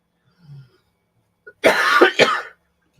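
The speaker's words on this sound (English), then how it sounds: "having a great time coughing like that" A person coughs in two harsh, close bursts after a brief faint throat noise, the second cough slightly shorter than the first, with quiet surroundings otherwise.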